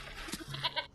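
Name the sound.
goat bleating in Sherlock Holmes: Chapter One video game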